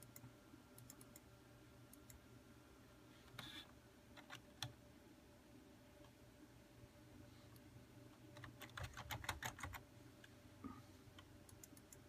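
Faint computer keyboard typing and mouse clicking, with scattered sharp clicks and short bursts of keystrokes over a quiet room hum, busiest near the end.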